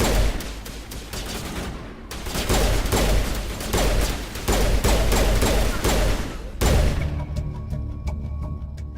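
Gunfire erupts in a Mass Effect firefight: dense bursts of rapid shots and thuds in several loud waves, briefly cut off midway, then a final burst trailing into sparser, crisp clicks.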